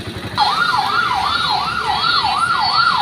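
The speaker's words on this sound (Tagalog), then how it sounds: "may padaan na ambulansya" A wailing ambulance siren rises and falls in a steady rapid cycle, loud and close, passing at night over a low traffic rumble.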